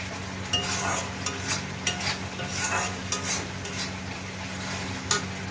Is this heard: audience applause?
no